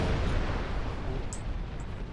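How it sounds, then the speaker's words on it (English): Photon torpedoes explode against a Borg invasion force in a Star Trek space combat video game, a dense sustained rumbling blast that holds loud and steady for about two seconds, with a few brief high electronic chirps. "guessing that explosion hurt"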